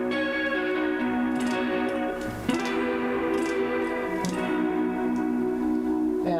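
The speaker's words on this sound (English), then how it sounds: "next up here, we've just got a nice little chorus" Electric guitar played through a chorus effect pedal on a DIY MIDI-controlled pedalboard, sustained shimmering chords ringing with a steady, full level and a brief dip and new strum midway, no voices.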